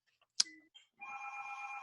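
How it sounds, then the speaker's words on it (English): A telephone rings in a quiet room during a conversational interview. A sharp click comes first, then a steady, bright electronic ring tone sounds close and alone for about a second. "That phone again."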